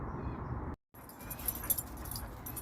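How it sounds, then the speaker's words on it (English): A dog whimpers and yips in short, soft bursts nearby, with a faint jingle of keys and a brief cut to silence partway through. "I have a dog here."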